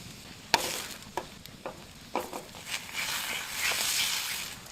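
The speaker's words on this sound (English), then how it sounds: "I have some leftover halloumi from this morning. Just gonna fry that up." Leftover halloumi cheese frying in a pan at a solo fall canoe campsite, a soft sizzle rising steadily under a few sharp scraping stirs and clicks, close and moderately quiet.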